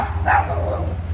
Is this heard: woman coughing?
no